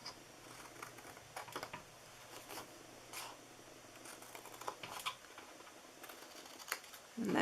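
Scissors snipping through the flaps of a small paper party-favor box, heard as quiet, scattered crisp cuts and rustles, with a louder scrape at the end.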